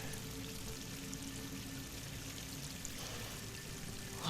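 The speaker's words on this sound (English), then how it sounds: "Water's coming in." Water rushing and pouring into an enclosed space in Horizon Forbidden West, a steady, quiet broadband flow that continues evenly without talk.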